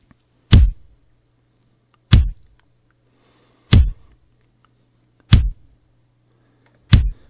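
Five evenly spaced, punchy bass drum hits loop alone in a basic drum track, each deep thump decaying quickly into silence over a faint low hum.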